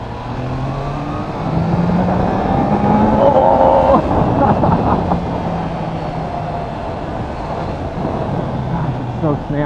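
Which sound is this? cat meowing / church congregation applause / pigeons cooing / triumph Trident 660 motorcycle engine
triumph Trident 660 motorcycle engine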